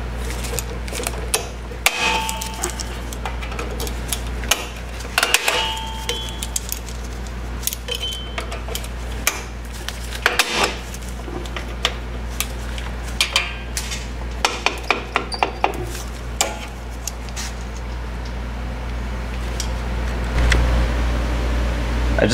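Metallic clinks and scraping taps from a flat screwdriver working a drum brake spring off the adjuster on a Fox-body Mustang, irregular close-up clicks scattered over a quiet steady hum, with no talk.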